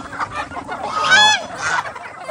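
Geese honking and clucking excitedly while feeding on yellow corn at a small backyard farm, a short burst of loud nasal calls close by with overlapping bird voices.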